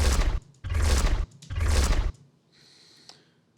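Layered cinematic sound effects, a whooshing energy movement blended with a high-pitched texture, come as three loud, close, broadband surges with deep low end, then a quieter shimmering tail with a small click.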